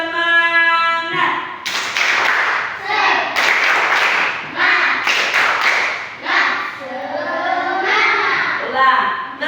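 Children at a church service clap a cheer rhythm together while chanting in loud bursts, the claps and young voices close and repeated in short patterned phrases.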